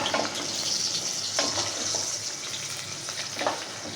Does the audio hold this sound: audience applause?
no